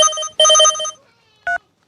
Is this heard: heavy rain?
no